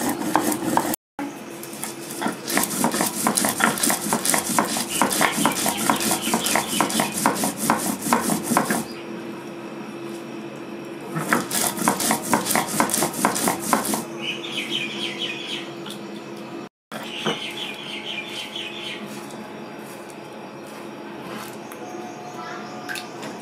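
Dry red chilies, cumin and mustard seeds are ground together into a paste, likely on a stone, with bursts of steady rough rubbing and scraping separated by pauses, close and fairly loud, with birds chirping in the background.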